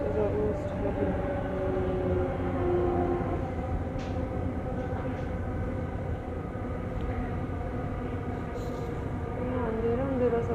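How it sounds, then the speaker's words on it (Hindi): Steady rumble of a moving Delhi metro train heard from inside the carriage, a continuous low hum with faint rail clatter throughout, while someone talks over it. "और मैं भी मेट्रो में हूँ"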